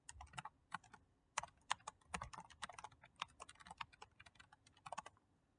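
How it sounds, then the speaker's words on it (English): Someone types login credentials on a computer keyboard: quick, uneven clusters of crisp key clicks with short pauses, close and fairly quiet, no talking. "I'm going to go ahead and type in my credentials."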